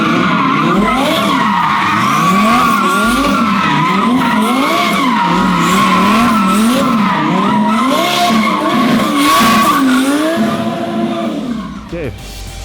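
Pink-wrapped 1000 HP twin-turbo Lamborghini Huracan doing donuts, tires skidding and squealing continuously while the engine roars and rises and falls in repeated sweeps, loud and close, ending with a brief drop.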